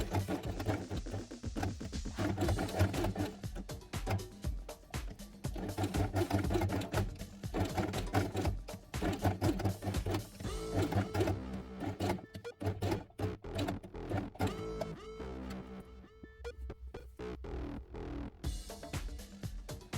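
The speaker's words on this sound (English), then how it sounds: "place Velcro with a loop side and sew it along the edge" A sewing machine runs almost without pause, sewing loop-side Velcro onto felt along its edge with a fast, steady mechanical chatter that stays fairly loud throughout.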